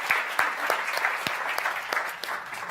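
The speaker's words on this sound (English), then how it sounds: "I think we should get a round of applause for them" An audience claps steadily for a few seconds, a dense patter of many hands at moderate volume.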